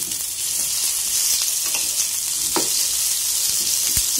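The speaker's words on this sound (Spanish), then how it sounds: "Ya que está caliente, vamos a estar agregando lo que son las papas." Potatoes sizzle in hot oil in a pan for a pork and potato dish, a dense, steady frying hiss broken by a few soft clicks and pops as the pieces are stirred.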